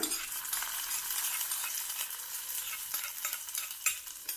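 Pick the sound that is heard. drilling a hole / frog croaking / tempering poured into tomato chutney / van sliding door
tempering poured into tomato chutney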